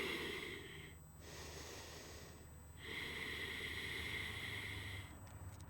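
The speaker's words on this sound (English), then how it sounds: "Listen to the sound of your breathing." Slow, audible breaths during a home yoga session, long airy inhalations and exhalations alternating in a steady rhythm against quiet room noise, with no talking.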